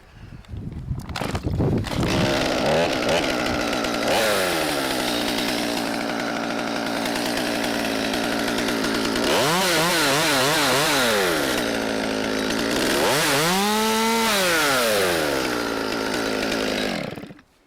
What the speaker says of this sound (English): I'm set and can safely use the chainsaw.